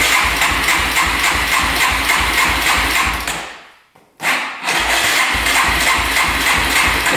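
A street-legal dirt bike engine turning over in a garage, a steady loud mechanical chugging that cuts out briefly partway through and then resumes at the same even rhythm, with no talk.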